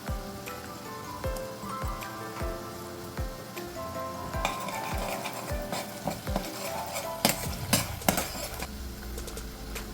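Onion sautéing in hot oil with ginger-garlic paste stirred in, a steady sizzle under repeated scraping stir strokes and light clinks of a spoon against the pan, close and continuous.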